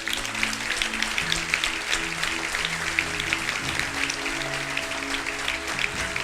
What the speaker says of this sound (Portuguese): Podemos aplaudir a Jesus por isso?